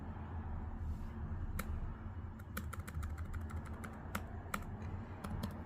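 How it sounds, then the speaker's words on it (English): A search being typed on a computer keyboard, heard as a quick run of crisp, close key clicks in irregular bursts over a low steady room hum. "So we're going to go ahead and type in"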